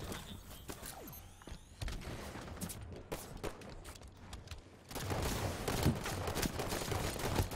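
Battle rifle gunshots in a multiplayer shooter video game, a rapid flurry of sharp cracks amid mechanical clatter and thuds, with heavier continuous gunfire and explosions filling the last few seconds.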